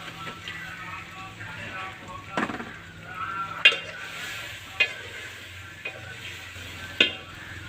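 Eggplant and chopped spices frying in a pan of garlic in a village kitchen, with a steady soft sizzle under repeated scraping stirs and a few sharp clinks of the spoon against the pan.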